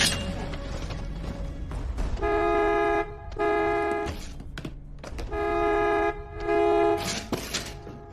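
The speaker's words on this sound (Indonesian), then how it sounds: "Suara klakson mobil di luar sana menyadarkan Broker" A car horn honking outside a house in an action film, several loud sustained blasts in uneven bursts with short gaps between them, close and alone.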